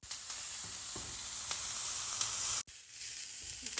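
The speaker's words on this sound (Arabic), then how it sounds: "راح ننزل مكعبات البصل ومعها على طول مكعبات الفلفل الرومي" Cubes of onion and bell pepper fry in a pan with a loud, steady sizzle and occasional stirring scrapes, broken once by a brief drop in the hiss near the end.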